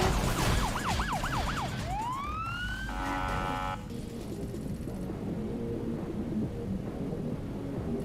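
Police sirens in the Need for Speed racing game, a wailing siren that sweeps up and down and then shifts to a faster yelp over a steady engine and road roar as cops give chase.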